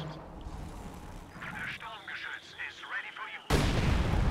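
Mortar artillery in the video game Company of Heroes 2: muffled battlefield rumble gives way to a sudden loud, sustained blast of fire in the final second.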